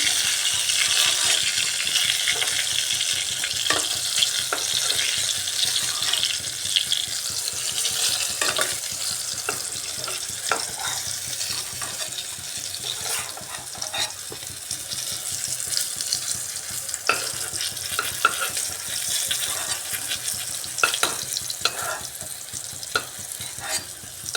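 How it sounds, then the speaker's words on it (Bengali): Pieces of ash gourd fry in a pan with a continuous loud sizzle, while repeated scraping and stirring clicks sound up close; no one speaks. "এবার বাকিগুলোও আমি এইভাবে ভেজে নিচ্ছি"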